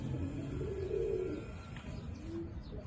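Pigeons coo softly in a loft, with low, rolling calls and a faint chirp over a quiet background hum.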